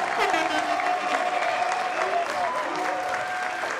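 A studio audience applauds a guest rapper on a live show, with sustained, fairly loud clapping and crowd noise while voices talk over it.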